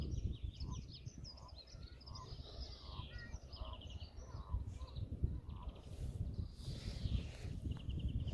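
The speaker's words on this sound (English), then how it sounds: "I can't hear anything apart from the birds tweeting." Birds call and chirp continuously at a nature reserve pool in Madeley, Telford, with a dense, overlapping chorus of near and distant calls over a steady outdoor rumble, some goose-like honks mixed in.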